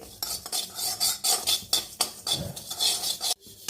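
White sesame seeds dry roasting in a hot kadai, with repeated loud scraping and rattling strokes of a metal spatula against the pan in an uneven rhythm, close and without speech.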